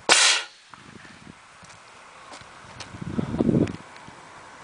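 A homemade lime cannon pressurized to about 13 bar fires with one loud, sharp boom at the start, followed by quieter rustling and scattered clatter nearby.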